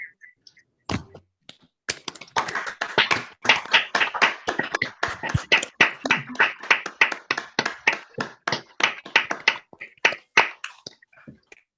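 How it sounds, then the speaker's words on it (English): Participants on an online award ceremony call applaud the winners and keynote speaker together, a long burst of overlapping hand claps through unmuted microphones that starts sparse, swells to dense clapping and tapers off. "we can give all the winners and our keynote speaker a long round of applause"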